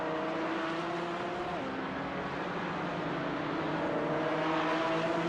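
Porsche 718 Cayman GT4 Clubsport race cars in the iRacing sim at Mid-Ohio, engines droning steadily with rising and shifting pitch as they run together in a pack, under continuous race commentary.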